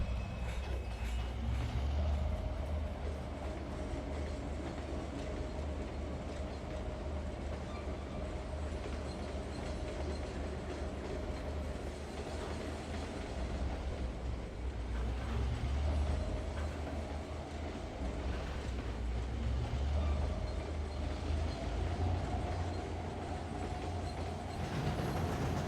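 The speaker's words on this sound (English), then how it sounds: "Stop the train, flip that switch," A train rolling along the rails in the railway simulator Trainz, a continuous low rumble with faint rhythmic clatter and a steady mechanical hum, fairly quiet and unbroken throughout.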